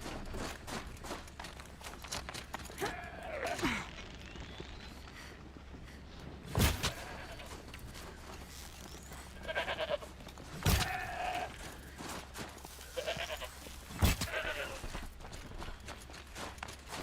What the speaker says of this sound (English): Oh, get back here, goat.